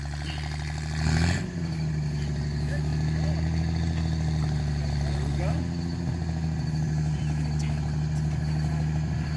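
Truck engine idling and pulling out of a rut, moving for the first time, a steady close low rumble with a brief surge near the start and a faint bump midway, a voice murmuring under it.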